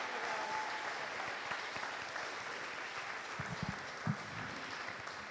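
Audience at a school spring band and choir concert applauding senior singers, a steady, moderately distant wash of clapping with a couple of sharper close claps near the end.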